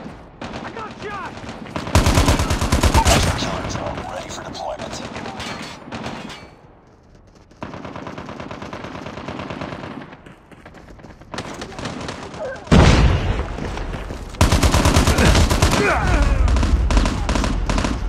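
Call of Duty gunfire in loud, sustained automatic bursts with brief pauses between volleys, close and dominant throughout, with shouted game voices under the shooting.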